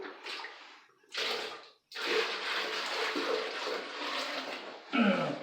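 Water pours into a bucket for mixing drywall mud during a bathroom remodel, a close, splashy gush in several bursts separated by short pauses, with a brief gurgling swirl at the end.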